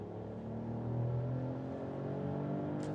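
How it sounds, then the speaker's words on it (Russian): A Mercedes S-Class six-cylinder engine pulls hard under acceleration on the road, a steady low rumbling growl heard from inside the car, with no talk over it. "Двигатель довольно громкий. Да, интересный звук. Красивое урчание шестерки."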